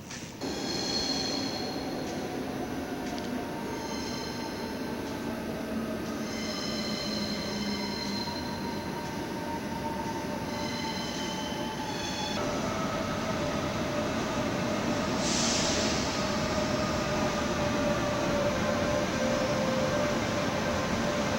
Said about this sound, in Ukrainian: Це чути звуки поїзда, що підійшов.